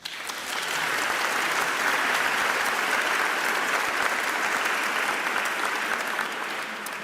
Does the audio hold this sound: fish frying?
no